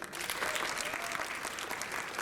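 Audience applause at the Megaplex 2021 opening ceremony, a short burst of many hands clapping at moderate distance, dense and steady for about two seconds with faint crowd murmur.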